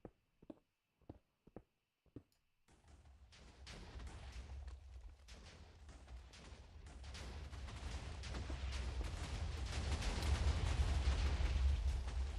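Blocky explosions from a Minecraft-style game on the Constantiam server: a few sharp isolated pops at the start, then a dense, rumbling barrage of blasts that builds louder and continues steadily.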